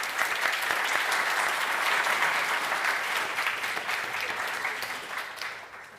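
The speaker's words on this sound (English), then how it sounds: "I think you also have deserved a big applause." A conference audience at a European forum in Vienna applauding after a lecture: sustained, dense clapping from many hands that holds steady, then fades away toward the end.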